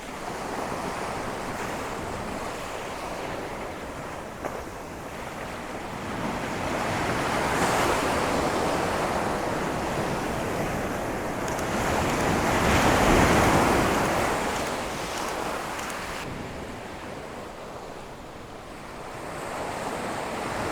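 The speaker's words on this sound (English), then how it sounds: "let's see if we can get some nice wave textures and waves breaking over those rocks" Ocean waves surge and break over shoreline rocks in long, rolling swells, loud and close, with steady surf wash and gusts of wind buffeting the microphone between the crashes.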